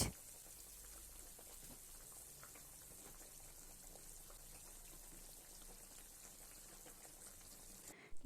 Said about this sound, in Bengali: গ্রেভি ফুটে উঠেছে